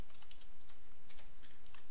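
Someone types a PowerShell command on a computer keyboard, producing a quick, close run of light key clicks in an irregular rhythm over a steady background hum, with no one speaking.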